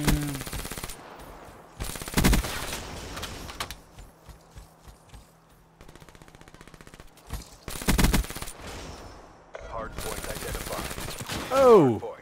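Bursts of automatic gunfire in Black Ops III ranked multiplayer, loud volleys around two seconds and eight seconds with quieter rapid shots between, plus brief sweeping game effects near the end.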